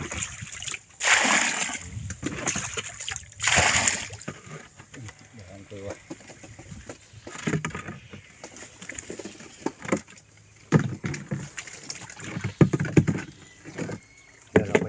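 Water splashes and sloshes in repeated bursts as someone bails out a small leaking fishing boat on a natural pond, scooping steadily while people talk over the splashing.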